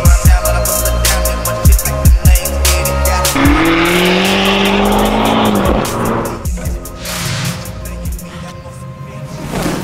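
A BMW F90 M5 accelerates hard on the road, engine roaring through rapid gear changes with rising revs and sharp pops, loud and close throughout.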